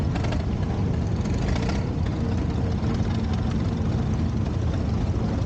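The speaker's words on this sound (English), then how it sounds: "Jacob Swanson is driving his Allis-Chalmers 612, a 1920 model." A 1920 Allis-Chalmers 612 tractor engine idles steadily and loudly up close, a dense low rumble that runs unbroken with no voices.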